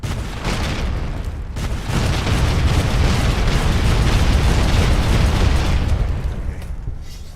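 Rocket fire explosions in the Fallout New Vegas video game, heard as a sustained, loud rumbling roar of blasts lasting several seconds that swells in the middle and fades slightly at the end.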